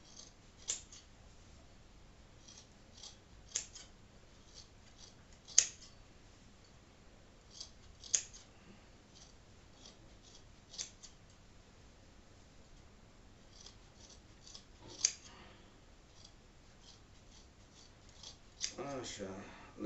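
Scissors snip hemp fibre into short 2 cm pieces, producing sparse, sharp, quiet cuts at irregular intervals against a faint background while someone talks softly.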